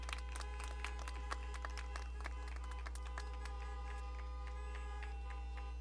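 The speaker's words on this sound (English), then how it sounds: "Please give a round of applause for our business CTE education pathway" Scattered applause rises from a graduation ceremony audience. It is faint and distant, made of thin, crisp claps over a low steady hum.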